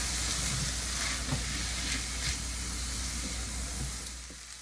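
Onions and peppers for jambalaya sizzling in a hot pan, a loud, even hiss with a few soft stirring knocks, close by, easing slightly toward the end with no talk.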